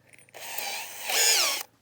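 A Dewalt DCD805N 20V cordless brushless hammer drill spins up into the concrete base of a house pillar, giving a sharp, close, high-pitched whine for over a second that climbs in pitch partway through before cutting off.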